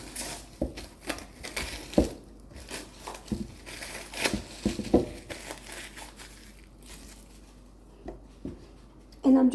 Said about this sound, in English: So I'm just removing this plastic